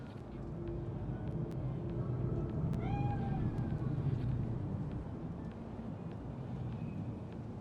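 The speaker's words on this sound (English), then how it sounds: "Chill, just a cat." A cat gives a single faint, thin meow partway through, set against a steady rumble of ambient city noise in the video game Cyberpunk 2077.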